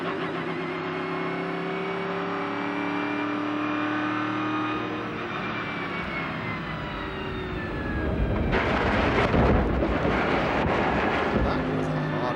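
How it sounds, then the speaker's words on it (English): Onboard a Kodak Pontiac race car at a Champcar Toronto and Grand AM event, the engine holds a loud, steady, high drone that slowly falls in pitch, then turns into a rougher, noisier roar near the end. "Again from on board the Kodak Pontiac."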